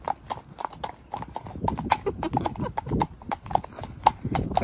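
Two horses' hooves clip-clopping on a hard surface outdoors, a brisk, uneven run of sharp knocks from fairly close by, with faint background noise between steps.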